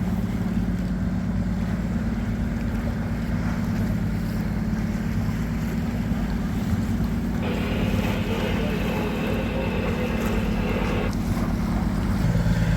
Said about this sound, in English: we got a bit of wind now